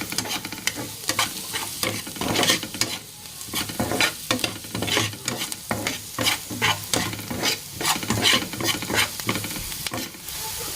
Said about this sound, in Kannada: Chilli flakes hockey mix ಮಾಡೋಣ್ರಿ.